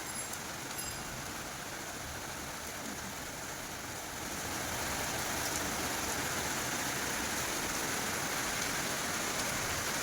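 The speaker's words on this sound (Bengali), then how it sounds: "বৃষ্টির আওয়াজ পাচ্ছ? ঝমঝম ঝমঝম করে বৃষ্টি পড়ছে।" Heavy rain pours down steadily outdoors under a stormy sky, a dense, even hiss of water on surfaces that swells louder midway and stays constant, with no talking.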